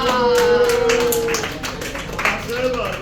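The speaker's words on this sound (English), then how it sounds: "Give a round of applause." Applause at a live slab mug pottery demonstration, a few seconds of clapping mixed with cheering and voices, fading toward the end.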